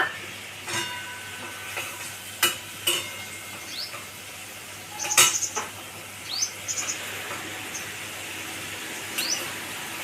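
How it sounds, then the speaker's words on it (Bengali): A steady sizzle of tomatoes added to onions frying in a pan, broken by scattered clinks and scrapes of a utensil stirring, with no one talking. "এবার আমার পেঁয়াজটা ভাজা হয়ে গেছে, এবার টমেটোটা দিয়ে দিলাম।"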